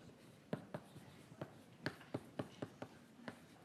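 Chalk or marker strikes and strokes on a board during a university chemistry lecture, about ten short distinct taps and scrapes in an irregular rhythm, close and fairly clear over a quiet room with no talking.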